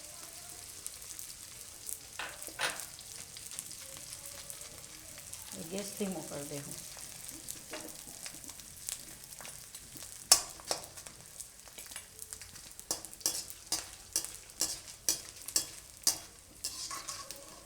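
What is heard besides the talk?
edible gum frying in hot ghee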